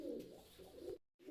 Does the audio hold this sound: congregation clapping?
no